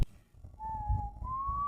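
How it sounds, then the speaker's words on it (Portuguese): Eerie whistling in a horror story, a single thin wavering tone that slides up and holds, close and fairly clear over low rumbling ambience. "os assobios vinham de trás de mim"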